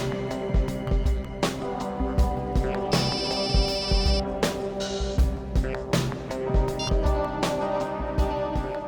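A phone ringtone playing as a melodic electronic tune in a crime drama scene, repeating bright tones over background music and effects, fairly loud and close with a few sharp hits.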